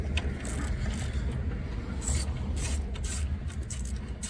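Ratcheting wrench backing out 10mm fasteners on a Ford Triton 5.4 liter alternator bracket, a steady mechanical clicking and rattling close up over low background rumble, with no talking.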